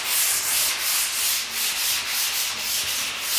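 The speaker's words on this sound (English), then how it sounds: "you can run a file over and it'll show you what's going on" A flat file scraped steadily back and forth across the metal of a car bonnet, producing a continuous gritty rasp with about a dozen even strokes close up and alone.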